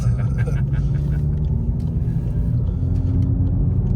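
A VW Golf TCR stage 2 with an Armytrix exhaust gives a deep, steady, muffled rumble, heard close from inside the car without a break.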